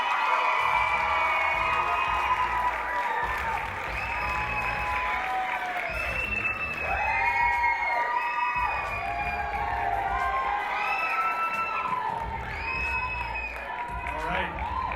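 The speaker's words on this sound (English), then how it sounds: "Let's clap it up one more time for the top 6." A crowd at the Mrs World 2022 pageant applauds and cheers loudly for the top six, with whoops and shouts over steady clapping throughout.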